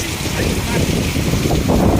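Strong typhoon wind from Typhoon Opong roars and buffets the microphone in loud, continuous gusts, with a voice faintly under the noise.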